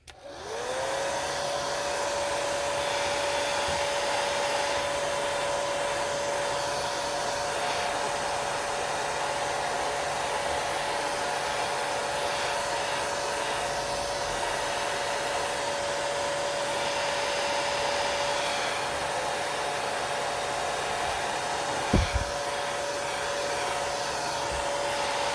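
Hair dryer drying paint on a woodland creatures craft, starting up with a rising whine and then blowing in a loud, steady roar for the whole stretch, with a faint knock near the end.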